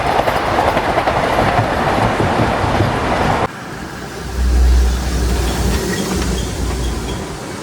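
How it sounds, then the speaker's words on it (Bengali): The 22302 NJP–Howrah Vande Bharat express runs loudly with a dense rushing roar and rhythmic wheel clatter, then cuts abruptly to a quieter, deeper rumble that swells and settles. "আমাদের সাথে দেখা হয়ে যাবে 22302 এনজেপি হাওড়া বন্দে ভারতের সাথে।"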